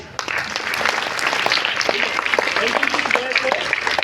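A class of students, girls among them, clap together in a continuous burst of applause at close range, with a speaking voice mixed in.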